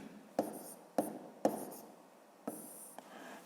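A pen writes out column multiplication by hand on paper, with short scratchy strokes starting in distinct bursts close up and quiet, no talking.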